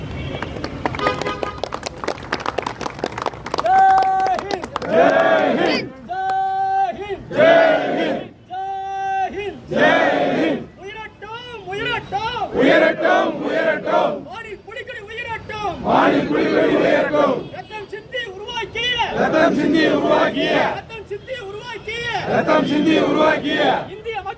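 A crowd at a flag-hoisting ceremony raises loud, rhythmic slogan chants and cheers, massed voices rising and falling in repeated bursts with scattered clapping beneath.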